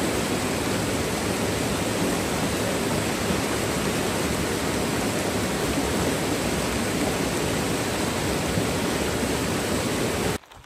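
A Yosemite mountain stream rushes steadily at a hiker's water-refill spot, a dense, unbroken roar of flowing water close by. It cuts off abruptly at the very end.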